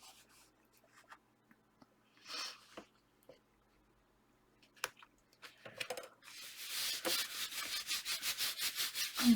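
Paper being rubbed and pressed onto the cover of an Easter junk journal, soft scattered scuffs and taps at first, then a steady run of rhythmic rubbing strokes growing louder near the end, close up with no voices.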